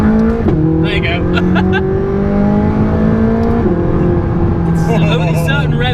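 A stock-exhaust McLaren 675LT revs hard at full throttle, its engine pitch climbing, dipping and climbing again under loud, close wind and road roar, with a voice breaking in toward the end.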